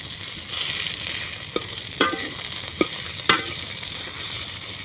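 Cauliflower fritters sizzle steadily in hot oil in a pan, while a spatula turns them with a few distinct scraping clacks against the pan over the constant frying hiss.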